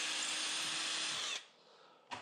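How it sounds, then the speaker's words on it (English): A power drill whirs steadily at close range with a bit turning through an oxalic acid vaporizer to clear out clogged residue, then cuts off and gives one brief final burst. "it takes you longer to put this bit in the drill than it is to get whatever gunk is in there out"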